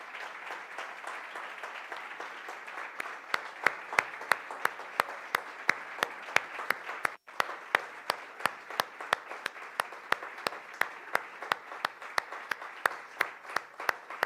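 Applause from a church congregation, a dense wash of clapping joined by sharp rhythmic claps in unison, steady and sustained.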